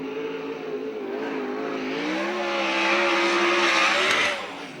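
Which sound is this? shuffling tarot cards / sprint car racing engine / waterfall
sprint car racing engine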